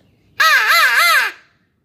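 A person imitates a crow with one drawn-out, wavering caw, loud and close, in a single sustained call with no talk around it.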